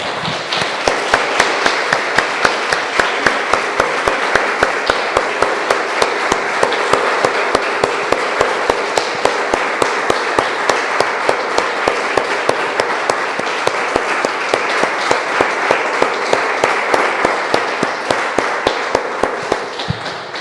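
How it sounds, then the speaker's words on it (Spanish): Sustained applause from a church congregation continues for a long stretch, with a strong regular beat of unison clapping running through it, loud and steady. "Damos un aplauso, hermanos, al Señor."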